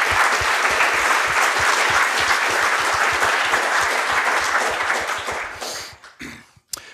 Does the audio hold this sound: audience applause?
yes